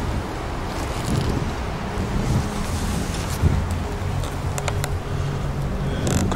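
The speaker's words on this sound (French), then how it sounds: "Le vent commence à se lever." Gusty wind blows outdoors, buffeting the microphone with a rough, fluctuating rumble that rises and falls across the whole stretch, with a few sharper gusts and no speech.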